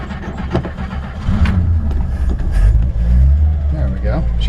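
A 1955 Chevrolet Bel Air four-door with a six-cylinder engine and original Powerglide automatic starts and runs cold with a low, rough, uneven rumble that swells louder partway through while someone talks over it.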